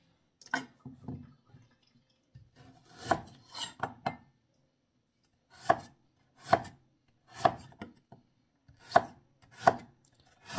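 Ginger being chopped into small pieces with a knife on a board: irregular bursts of sharp, close knocks, then a steadier run of evenly spaced single chops with short pauses between them, no talking.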